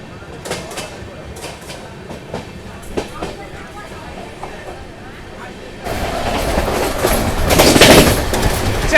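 An Amrit Bharat Express train pulls out of Ongole railway station, its rumble and wheel clatter building steadily louder and nearer, with someone talking over the platform noise before the train gets underway.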